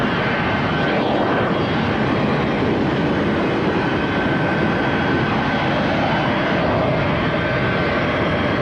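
A Boeing 737 presidential jet takes off at Conakry-Gbessia international airport in 1983, its engines producing a loud, unbroken roaring rush that fills the whole stretch, with no voices.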